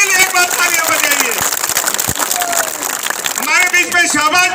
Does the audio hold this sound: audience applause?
yes